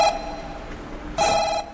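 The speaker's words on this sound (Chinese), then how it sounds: "来电话了" A telephone rings for an incoming call during a comedy sketch, two short electronic rings separated by a pause, fairly clear with no talk over them.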